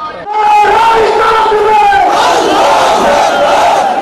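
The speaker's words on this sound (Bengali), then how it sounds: "নারায়ে তাকবীর ধ্বনিতে মুখরিত সমাবেশ স্থল।" A large political rally crowd roars a sustained Naraye Takbir chant, many voices merging into one loud, continuous swell that carries on without a break.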